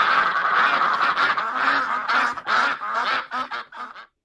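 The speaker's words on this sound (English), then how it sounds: "And now we get to the duck sound" A duck quacking sound effect is played from a soundboard keyboard, a loud rapid series of harsh, nasal quacks that runs for several seconds and then cuts off abruptly.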